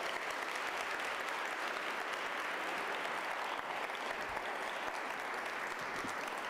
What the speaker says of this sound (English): Let's give Joan another round of applause